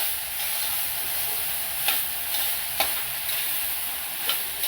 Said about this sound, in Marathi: कांदा खूप असा लाल जर भाजायचा